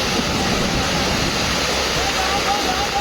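A flooded mountain stream in Chamba, Himachal, swollen by torrential rain and carrying mud and silt, rushes in a loud, continuous roar, with a voice talking over it.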